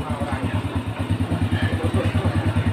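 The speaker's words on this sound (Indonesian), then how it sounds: "pada saat kita hidupkan mesinnya, mesinnya hidup" A Honda Grand motorcycle engine running at idle, close by, with a steady low rhythmic putter of even pulses throughout.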